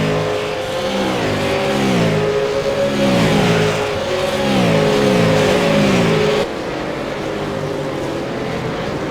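V8 race cars accelerate around Donington Park circuit, engines roaring and rising in pitch in repeated surges as several cars pass close by, loud and continuous with no talk.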